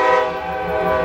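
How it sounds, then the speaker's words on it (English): A freight train's horn blasts loud and sustained at close range for the whole moment, layered over the low rumble of the passing rail cars, with no voices. "I think that's the train I'm talking about."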